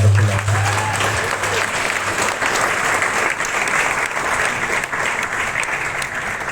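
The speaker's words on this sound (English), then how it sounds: "So yes, another round of applause for our wonderful artists" A festival audience at Auroville applauds Rajasthani folk musicians in a sustained, even round of clapping at moderate distance, a continuous rustling patter with a low hum beneath it.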